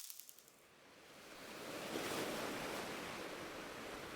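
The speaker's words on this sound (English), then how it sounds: "Not a cliff. A waterfall." A waterfall's steady, broad rush swells over the first two seconds and then holds as an even, fairly faint roar with no voices.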